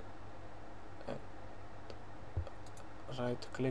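Mouse clicks during a Unity and Playmaker editor session: a few quiet, scattered clicks over a low steady hum, closing in a short cluster of sharper taps.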